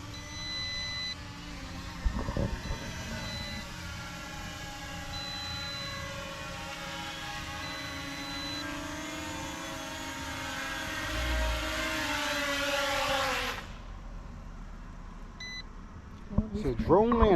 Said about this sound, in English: So drone landed, low power mode activated.